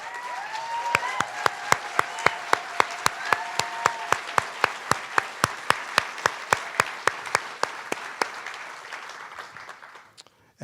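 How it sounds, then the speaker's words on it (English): A film festival's opening-night audience applauds for two honorees, a steady sustained wash of clapping with a few sharp, evenly spaced individual claps standing out, fading near the end. "accept a warm round of applause"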